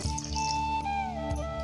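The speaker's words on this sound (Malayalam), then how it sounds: "നമുക്കിതേക്ക് വെള്ളം ഒഴിച്ച് വേവിക്കാം." Water pours into a cooking pot holding ripe mango for mambazha pulissery, a traditional Kerala curry, a close, steady filling stream whose tone rises as the vessel fills.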